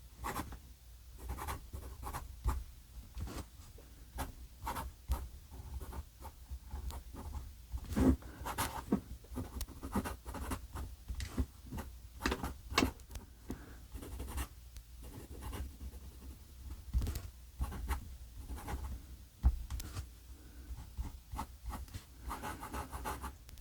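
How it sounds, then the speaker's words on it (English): A Pilot Prera steel-nib fountain pen writes on Rhodia paper, its close, faint nib scratches and taps coming in quick irregular strokes with short pauses between words, with no talking. "we'll just blast off a quick little writing sample for you"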